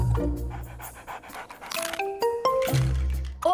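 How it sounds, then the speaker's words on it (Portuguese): A cartoon dog pants in quick, breathy bursts in a children's animated series, mixed with light clinks and short musical chimes near the end. "não é fácil passear com um cachorro que tem 3 vezes o seu tamanho"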